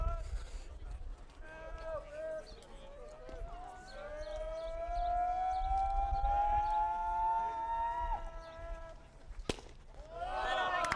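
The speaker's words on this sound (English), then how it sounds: "Sounds like a siren coming from there." A rising, wavering siren-like whoop rings out from a distant baseball bullpen over crowd noise during a high school playoff game, sweeping upward for several seconds before cutting off, then starting again.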